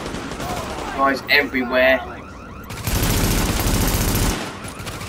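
Gunfire in the video game The Division, heavy automatic fire bursting in after a short spoken remark, a loud, steady rattling stream of shots lasting a couple of seconds before cutting off.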